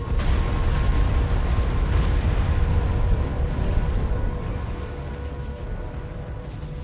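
A loud, sustained roar of explosions in the video game Armored Core 6 rumbles continuously and slowly fades near the end.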